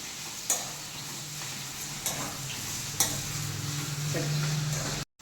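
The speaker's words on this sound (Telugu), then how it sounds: "ఉల్లిపాయలు బాగా ఫ్రై అయిపోవాలి ఫ్రెండ్స్" Onions fry in a pan for an egg garlic curry, giving a steady close sizzle broken by three or four sharp scrapes of a spoon against the pan, with no talking.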